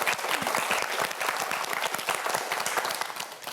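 A studio audience applauds a student contestant on a televised quiz show, with dense, steady clapping that stays loud and full for a few seconds.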